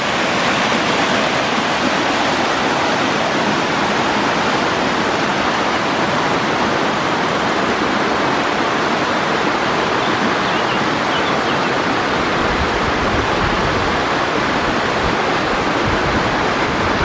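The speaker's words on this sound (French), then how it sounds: "La cascade est juste sur la gauche là-bas." A mountain waterfall near Plan-Salin in Savoie at about 1760 metres roars as a loud, constant, dense rush of falling water that fills the whole scene without pause.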